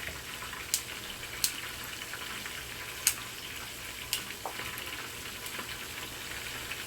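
Broccoli added to a sizzling pan of chicken in thick cornstarch sauce, giving a steady, moderate frying hiss with a few sharp pops and clicks scattered throughout.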